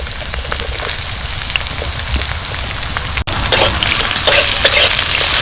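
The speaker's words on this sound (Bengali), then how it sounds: "পেঁয়াজটা ভাজা হয়ে গেছে" Chopped onion with garlic frying in mustard oil over bay leaf, dried chilli and cumin tempering, a steady close sizzle with brief stirring scrapes and a short break before it grows brighter and louder.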